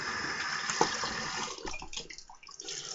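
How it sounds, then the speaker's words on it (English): Cold tap water runs to rinse a razor, a steady splashing stream that breaks up into irregular spatters and drips as the blade passes through it, close and moderately loud. "let me rinse, cold water rinse,"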